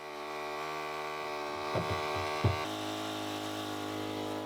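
A pump at a maple sugar bush runs with a steady low mechanical hum, joined midway by a few brief knocks and clunks, close and alone.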